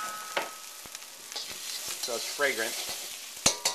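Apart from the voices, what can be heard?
stir-frying black bean, pepper, garlic and ginger in a pan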